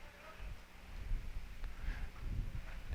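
Steady gusting wind at a seaside baseball field buffets the microphone with low rumbling noise, rising and falling irregularly throughout.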